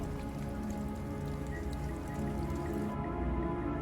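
Rain falls steadily in the Wuthering Waves video game, a dense, even patter of drops with scattered drips over a low background bed, continuous and fairly soft, with no talking.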